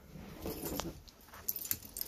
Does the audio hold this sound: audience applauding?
no